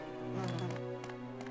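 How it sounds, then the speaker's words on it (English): A wasp enemy in the Resident Evil 1 remake drones with a continuous buzzing hum, rising and wavering in pitch, loud and close with faint game ambience beneath. "I don't like the wasp."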